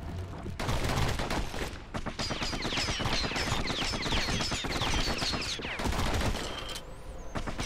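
Dueling pistols firing in the action game Bastion, a loud, rapid barrage of shots packed tightly together for several seconds, with a brief break and a final burst.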